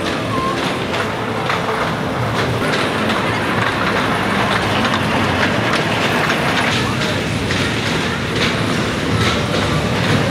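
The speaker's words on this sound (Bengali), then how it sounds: "আমরা এখানে ট্রেন দেখতে পাচ্ছি।" A train passes through a park, a loud, continuous rumble with rattling clatter that holds steady throughout, with faint voices in the background.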